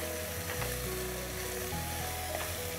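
Paneer cubes sizzle and fry in a hot pan, a steady soft crackling hiss with faint stirring, no talking.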